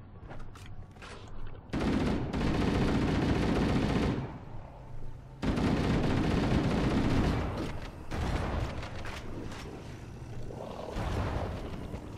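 Heavy gunfire in the Halo video game, with dense roaring bursts of automatic fire and blasts in long stretches separated by brief lulls, loud and close, with no talking.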